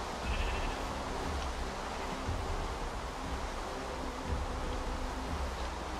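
Sheep bleating in the blocky survival game Terrafirmacraft, a few thin calls rising over a constant buzzing insect-like drone and low rumbling ambience.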